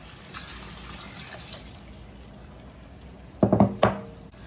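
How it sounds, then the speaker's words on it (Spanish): Water is poured into a stone molcajete, a soft trickle followed by a few louder splashing bursts near the end. "llenamos nuestro molcajete de agua y le agregamos esto tanto de agua"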